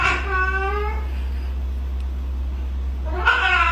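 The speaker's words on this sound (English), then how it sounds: "Is that the cat making the sound?" A cat meows twice, a drawn-out cry at the start and another near the end, with a steady low hum and quiet background between.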